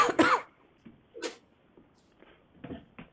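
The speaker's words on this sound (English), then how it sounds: "Did you start coughing again?" A person gives one sharp, close cough, then a softer throat-clearing burst, followed by faint scattered rustles and small knocks in a quiet room.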